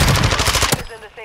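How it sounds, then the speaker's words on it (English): Rapid automatic gunfire from the Warzone 2 video game, a dense burst of close, loud shots lasting under a second before cutting off to quieter game ambience. "I was getting shot in the back."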